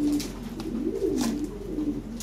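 A pigeon coos close by, one rising and falling throaty call rolling out in a brief burst, with faint rustles behind it and no talking.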